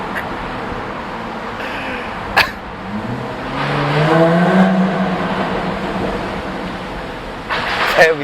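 A 2016 Jaguar F-Type revs hard inside a tunnel, its engine note climbing and echoing loudly off the walls, with sharp pops and crackles at the start and end.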